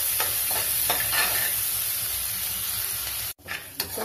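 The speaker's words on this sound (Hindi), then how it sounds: "जैसे ही हमारा जीरा क्रैकल करता है, हम इसमें डालेंगे सबसे पहले अपना जिंजर गार्लिक और चिली का क्रश।" Ginger, garlic and chili crush frying in hot oil with crackling cumin and a pinch of asafoetida, a loud continuous sizzle with stirring scrapes, briefly cut near the end, no talk.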